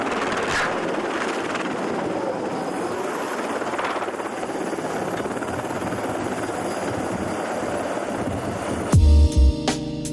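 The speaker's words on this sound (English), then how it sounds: "This helicopter tried to take off but failed." A helicopter's rotor and engine roar steadily and loudly throughout a failed takeoff attempt, with a sharp burst of louder clattering impacts near the end.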